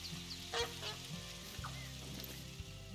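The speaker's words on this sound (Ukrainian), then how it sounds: "Знову гусаки." Geese honk a few times in the video game theHunter: Call of the Wild, on the Sundarpatan map, over a steady, sizzling game-like background hum, with scattered bright calls near the start.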